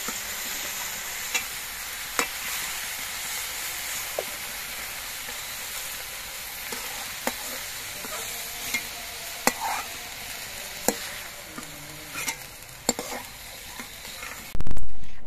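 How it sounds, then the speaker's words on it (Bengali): Broccoli fries in oil in a wok with a constant sizzling hiss, punctuated by sharp periodic clacks of a utensil stirring against the metal, close up and without voices. "ব্রকলিগুলো আমি খুব বেশিক্ষণ ভাজবো না, আমি মিনিট 2-1 মতো ভেজে নিয়েছি।"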